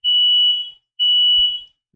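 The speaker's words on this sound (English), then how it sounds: "the fire alarms are going off" A fire alarm blares in two long, loud, steady high-pitched tones, each close to a second long, with a short silent gap between them.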